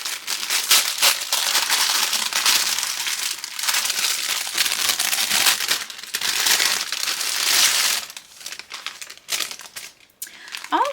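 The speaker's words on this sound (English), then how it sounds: "let's unwrap these and I'll show you what kind of mixed drink beverages we have" Plastic sachets of mixed drink powders from a book club box are unwrapped, giving continuous loud close crinkling and crumpling with some tearing, easing off briefly near the end.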